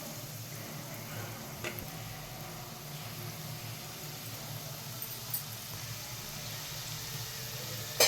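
Chicken fritters fry in a pan of hot oil with a soft, steady sizzle and crackle throughout, fairly quiet, with a few small pops and a louder clack at the end.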